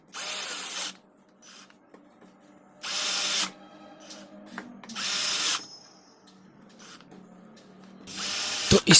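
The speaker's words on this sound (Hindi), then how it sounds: "अब हम स्पीकर के सभी स्क्रू को लगाएंगे।" A power screwdriver drives screws into a home theatre speaker in four separate loud whirring bursts, each about a second long, with quiet handling noise and faint rattles in the gaps.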